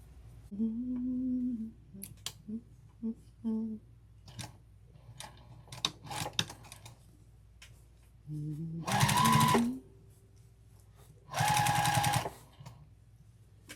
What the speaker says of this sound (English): I still have to top stitch.